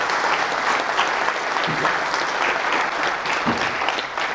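A crowd at a security conference claps continuously and fairly loudly, a thick, even wash of applause with a few faint voices mixed in.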